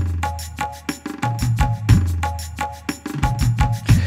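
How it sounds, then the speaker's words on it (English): A world-style electronic percussion groove from a Casio CT-X700 keyboard, with hand-drum style hits, shakers and a pulsing low bass line, busy and rhythmic. "And you even have some world type of sounds like this one."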